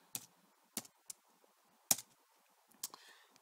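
A computer keyboard being tapped to enter a command on a 500A motor controller, five sparse, crisp keystrokes spaced irregularly, close and quiet against a near-silent room.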